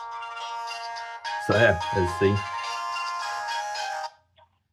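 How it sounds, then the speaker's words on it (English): A smartphone rings with a melodic ringtone from an incoming call placed by a BW8 4G SIM-card smartwatch. The tone plays steadily for about three seconds while someone speaks briefly over it, then it stops abruptly. "hopefully this phone will start to ring."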